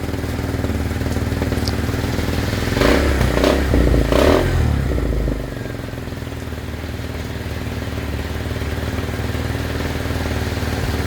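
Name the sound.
motorcycle engine revving and stalling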